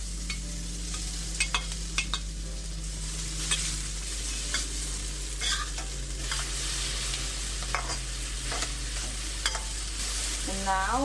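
Tofu, dried shrimp and dried radish are stir-fried for pad thai, a continuous close sizzle with repeated scraping and tapping strokes of a spatula over a low steady hum.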